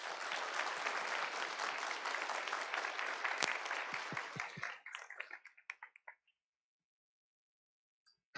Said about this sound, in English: can we have a very finely calibrated round of applause